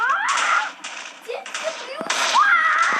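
Bursts of noisy crackling TNT blasts in a video game come one after another, with a voice talking and exclaiming over them.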